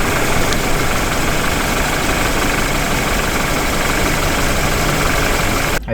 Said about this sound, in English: The car itself, the engine, when it's idling, it sounds like a diesel engine